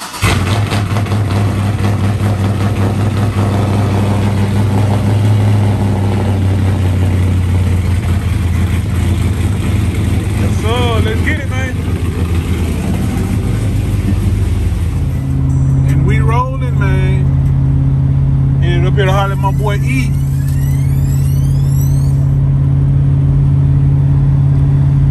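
A Porsche Cayenne started cold with a push button, its engine settling into a steady loud idle with a couple of brief revs, while someone talks over it close by throughout.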